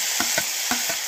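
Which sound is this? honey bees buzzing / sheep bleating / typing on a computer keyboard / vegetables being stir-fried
vegetables being stir-fried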